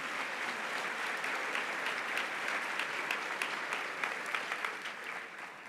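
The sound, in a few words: church congregation applauding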